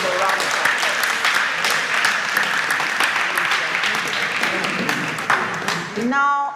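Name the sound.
audience applause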